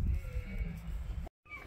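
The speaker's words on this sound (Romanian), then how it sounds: "Priviți ce oi frumoase aici." Sheep bleat inside a sheepfold, several close calls over a low murmur of the flock, cut by a brief drop to silence before the bleating resumes.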